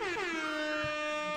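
A single loud air horn blast plays as a sound effect on a gaming stream, a sustained brassy honk that slightly drops in pitch, alone with no voices.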